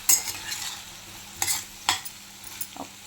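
Plantain slices being stirred in hot oil in a pan, a few scraping strokes with a spoon against the pan over a soft, steady sizzle, close and alone without any voices.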